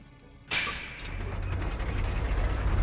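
A lever in the video game Metro: Last Light releases a ladder mechanism with a sudden metallic clunk, followed by a steady mechanical rumbling and grinding that builds slightly over a couple of seconds.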